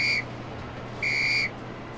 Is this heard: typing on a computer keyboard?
no